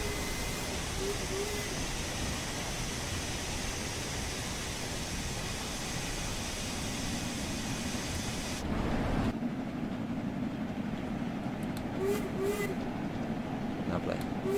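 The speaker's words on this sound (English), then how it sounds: "it's a steam train" A steam train running on the West Coast Main Line in Train Sim World 2, a steady loud rumble and rattle of rolling stock, with the noise shifting in character partway through.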